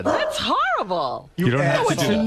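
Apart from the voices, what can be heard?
dog yelping in the radio studio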